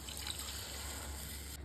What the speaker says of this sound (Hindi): तो अब हम इनमें पानी डाल लेते हैं।